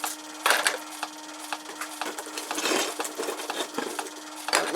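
A multi saw blade shredder runs with 3D printed plastic parts loaded but not touching the blades, giving a steady mechanical whine with scattered light clattering and rattling knocks.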